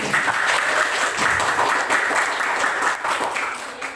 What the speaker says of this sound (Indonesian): Sekali lagi kita beri tepuk tangan untuk Persatuan Siswa Batak lagi.